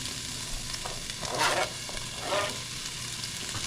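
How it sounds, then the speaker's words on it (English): Green peppers sautéing in a pan, a steady close sizzle with two brief louder bursts of crackle as the pieces are stirred, no voices. "I'm going to add the peppers first to the pan. Let them saute down just a little bit"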